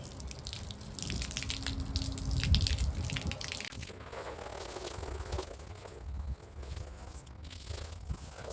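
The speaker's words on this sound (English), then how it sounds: "let's get this rinsed off." Water from a hose rinses the cleaned convertible top of a 1962 Triumph TR4, a steady spraying and splashing hiss with dripping, heard close and continuous.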